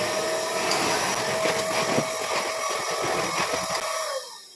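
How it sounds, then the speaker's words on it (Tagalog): A household vacuum cleaner runs with a steady whine and rushing airflow, loud and close, then cuts off at the end. "Nag-vacuum na nga ako."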